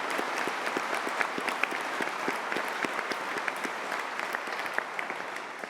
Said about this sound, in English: Can we have a big round of applause for our graduate today